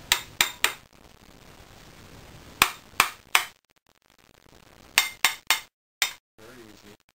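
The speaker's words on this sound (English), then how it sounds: "And then with a hammer, put a little tap all the way around." Hammer tapping around a part of a Norwalk 265 juicer being converted to a 275 hybrid, in three clusters of three sharp metallic taps each, close and loud, with quiet gaps between.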